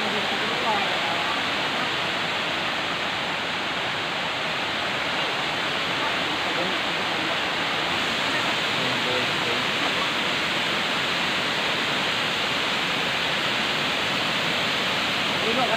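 Bagum Bayan Bangas Falls roars with a steady, loud rush of falling water that fills the scene continuously, with faint voices of a group of visitors mixed into the torrent.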